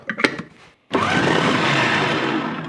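An electric blender whirs continuously as it mixes dried coriander, salt, oil, mustard and vinegar into a fish marinade, starting abruptly after a few short clatters of ingredients going in and running loud and steady to the end.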